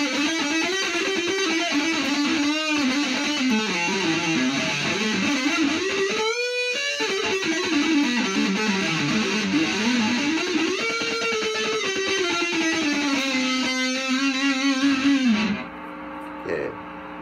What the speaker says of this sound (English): Let's add a little bit of distortion.